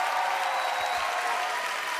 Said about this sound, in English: On applaudit plus fort que ça.